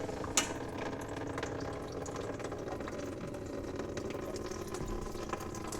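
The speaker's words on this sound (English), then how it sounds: "Right, so we've got water coming out of there." Water drains steadily out of a kitchen sink disposal unit, a continuous close gurgling rush with a brief splash near the start and no break in the flow.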